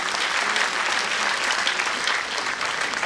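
A dense burst of hall applause at a Chess Olympiad torch handover ceremony, steady and fairly close, with no voices standing out.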